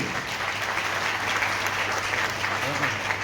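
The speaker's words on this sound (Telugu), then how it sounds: "ఒకసారి క్లాప్ చేయండి" An indoor audience at a business gathering applauds, sustained clapping of many hands, steady and moderately loud for the whole stretch.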